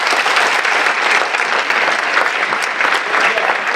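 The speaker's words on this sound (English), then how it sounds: "I think they deserve a round of applause" A dense, loud round of applause from a meeting audience for a school district grant team, continuous clapping that stays full and even from start to finish with no voices over it.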